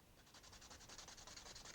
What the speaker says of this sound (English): so I'm confining my sanding to just that seam if I can